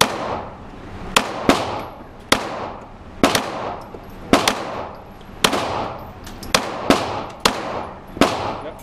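Airsoft pistols fire a magazine at targets in an urban tactical setting, giving about a dozen sharp, loud pops in uneven bursts, each snapping off quickly with a short decay.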